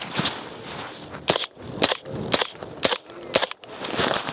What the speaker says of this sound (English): we're just gonna shoot some rounds in the dirt before we get a zero on this thing